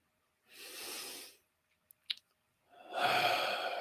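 Two deep, slow breaths taken together during a calm evening prayer session, a long soft exhale and then another fuller breath after a brief pause, close and quiet with a tiny click in between.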